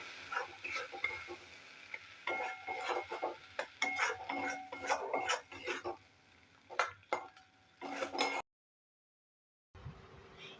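Ground cashew paste is worked into egg korma in a pan, with irregular scraping strokes and light clinks of a spoon over a low sizzle, then a short silence before a quieter tail.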